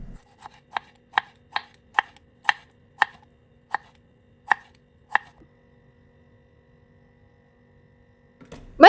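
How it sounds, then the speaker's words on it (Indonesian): A knife thinly slices a tomato on a board, about ten crisp, evenly spaced cuts, close and clear, followed by quiet and then a brief clatter. "selanjutnya aku akan iris tipis-tipis tomatnya"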